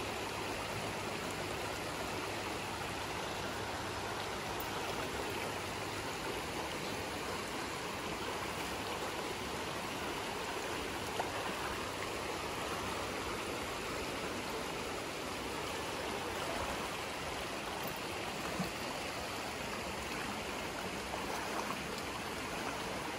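River water rushes steadily at a ford on the Appalachian Trail, a dense, continuous broadband flow with no breaks, close and moderately loud.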